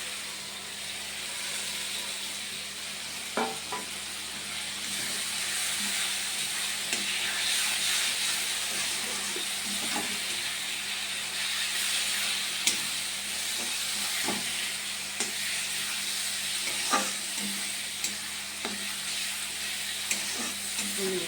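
An egg fries in a pan with a continuous, even sizzle and hiss, broken by occasional faint clicks and taps, with no talking.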